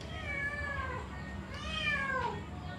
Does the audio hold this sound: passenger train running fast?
no